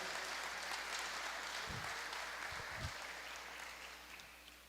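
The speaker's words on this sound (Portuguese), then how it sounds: "pode aplaudir ao Senhor" A church congregation claps during a service, a diffuse, faint wash of applause heard from a distance with a few low thumps, and no voices over it.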